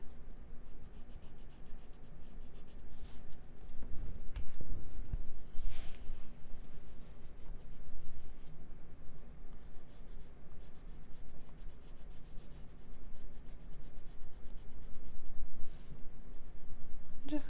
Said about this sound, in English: Just kind of scribbling that in there.